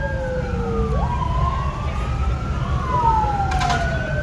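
Fire engine sirens wail and sweep in pitch at a warehouse fire, several overlapping tones over a heavy rumble of engines and crowd noise, loud and continuous.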